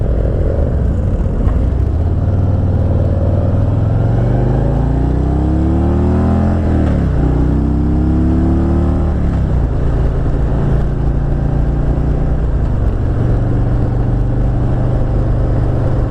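A 2018 Harley-Davidson Road Glide Ultra with a Milwaukee-Eight V-twin runs steadily and loudly, its revs drifting up and down in slow waves under continuous wind and road rumble, with no talking.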